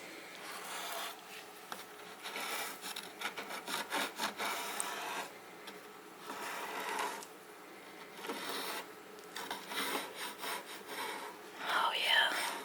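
Old finish being stripped from a wooden furniture piece, with steady rubbing and scraping strokes in an irregular rhythm, close and fairly quiet, and soft speech-like breathy sounds mixed in.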